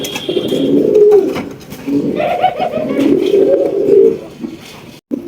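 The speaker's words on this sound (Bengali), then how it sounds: "এখানে একজোড়া কিং কবুতর রয়েছে" Deep, rolling coos from a pair of large King pigeons close by, repeating in several drawn-out phrases with short pauses between them.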